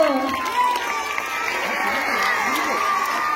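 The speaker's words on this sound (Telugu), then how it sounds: "చప్పట్లు చప్పట్లు." A crowd at a Sankranthi festival celebration at Andhra University applauds and cheers loudly and steadily, with shouts and voices mixed into the noise.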